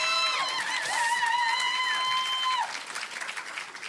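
At an anime convention panel with voice actors, steady audience applause runs for a few seconds under a prominent high whistling or squealing tone, then eases off.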